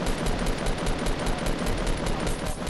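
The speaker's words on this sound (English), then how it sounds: "Why are they shooting at us?" Rapid automatic gunfire rattles in Fortnite, a steady close burst of evenly spaced shots that fills the whole stretch with loud, dense crackle.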